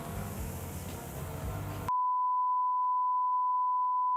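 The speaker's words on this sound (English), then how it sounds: "I know that beep was probably dead annoying, but it was necessary." A steady, loud electronic beep from a Gran Turismo 2 license test holds one unbroken tone for over two seconds, cutting in abruptly after a stretch of dense in-game engine and music noise.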